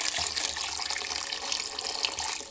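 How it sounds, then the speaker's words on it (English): Hot water poured into seed-starting soil pods, a steady, close, rushing stream that runs continuously and fairly loud, with no talk. "So I'm gonna add hot water."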